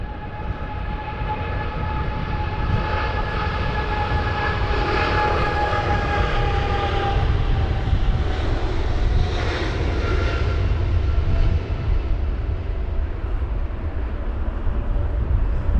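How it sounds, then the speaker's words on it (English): A British Airways Boeing 777-200ER taking off at London Heathrow in stormy conditions, bound for Riyadh, produces a sustained, loud jet engine roar with a steady whining tone over deep rumble, heard alone and continuous. "Just going to catch this British Airways 777-200ER off to Riyadh, flight number BA263."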